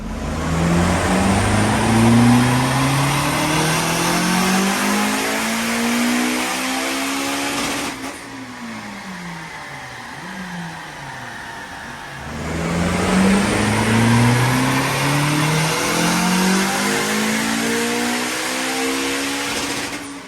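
Turbocharged Honda Civic Type R FN2 engine revving hard and loud on a dyno, with rising and falling harmonic sweeps, a brief drop around the middle, then sustained high revs again; no talking.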